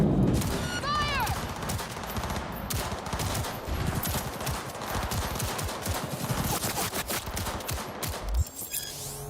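Police gunfire in Cyberpunk 2077, rapid loud bursts and continuous volleys of shots crackling over the whole stretch, with shouting voices mixed in.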